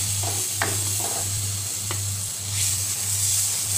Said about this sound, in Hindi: दूध डाल देंगे और चीनी डाल देंगे चीनी की जगह आप कंडेंस मिल्क भी ले सकते हैं और इसको चलाते रहेंगे